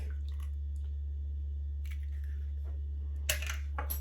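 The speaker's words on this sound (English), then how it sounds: "Crack an egg" An egg cracked on a bowl at the end, a sharp short crack with a little wet spill afterward over a steady low hum, following a few faint kitchen ticks.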